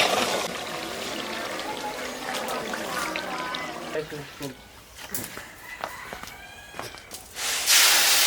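Water pours and trickles continuously into a pot, loud and close, while people talk over it; a burst of splashing rushes at the end.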